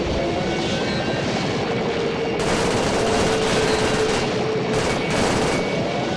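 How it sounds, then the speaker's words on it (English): Heavy gunfire from an attack helicopter's guns in Arma 3, a dense continuous roar of rapid shots layered over loud rotor and engine noise, steady throughout with a sharper burst partway through. "The guns kind of fire from the center of the fuselage, not from where the actual guns are."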